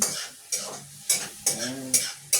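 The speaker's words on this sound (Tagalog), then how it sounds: "Haluin ulit natin." Food is stirred in a frying pan, with six rhythmic scraping strokes of a utensil about every half second over a soft sizzle.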